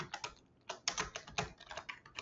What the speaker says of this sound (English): I'm just typing like crazy.